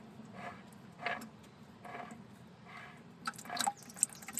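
Water draining from a scrapped CAT 977 track loader, with irregular drips and splashes into liquid, sparse at first and then a quicker cluster of drops near the end, close and quiet over a low background hum.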